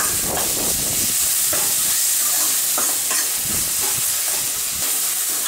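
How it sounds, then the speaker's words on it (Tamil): Tomatoes sauté in a pan with rock salt for a fish gravy, a steady loud sizzle with repeated scraping stirs throughout. "நான் இப்போ கல் உப்பு கொஞ்சம் சேர்க்குறேன், சீக்கிரமாக வதங்கிறதுக்கு"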